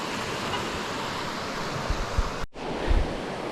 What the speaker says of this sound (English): Alright, better view out here of this rip-roaring river.